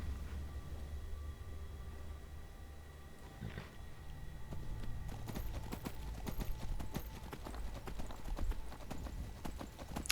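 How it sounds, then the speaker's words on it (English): Steady hoofbeats from a horse in Skyrim clip-clop through the passage, starting softer and growing denser and more prominent in the second half, with a low ambient rumble underneath. "No, it's a horse, kiddo."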